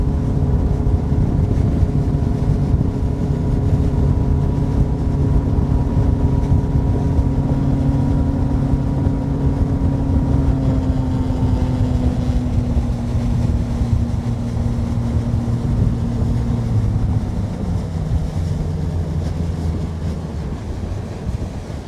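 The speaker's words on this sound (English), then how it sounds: "The wind is blowing at a weird angle." Wind gusts over a fishing boat on Lake Guntersville, mixed with a steady low engine drone and water noise, continuous and fairly loud throughout with no talking.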